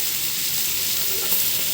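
Ridge gourd and potato pieces frying in a pan, giving an even, close, hissing sizzle that holds steady without pause.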